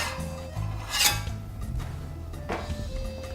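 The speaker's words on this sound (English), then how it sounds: "Then I take my metal spatula and go under and make sure it's not attached to the bottom of the pan." A metal spatula rasps and scrapes under a Spanish potato tortilla in a frying pan, making a few short, gritty scrapes close by with no talking.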